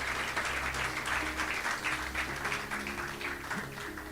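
Steady applause from a large church congregation, sustained throughout with a dense wash of clapping and a low hum beneath.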